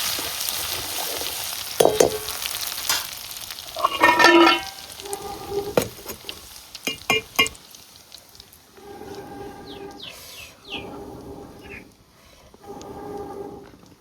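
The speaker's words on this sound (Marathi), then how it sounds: "असं तडका बसला पाहिजे." Garlic, coconut, asafoetida and curry leaves are tempered in hot oil for dal over a wood-fired clay stove. Loud sizzling bursts mix with scraping stirs, then settle into a quieter crackle.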